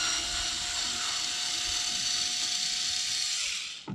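A steady whirring, ratcheting hum from a handheld screwdriver removing screws from an Old Town PDL kayak's front seat riser runs continuously at close range, then stops abruptly near the end.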